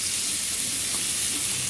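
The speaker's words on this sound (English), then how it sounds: "But I'll melt some butter on here and throw the onions on." Onions sizzle in melted butter on a hot BBQ plate, a loud, dense, even frying hiss held close throughout the brief moment.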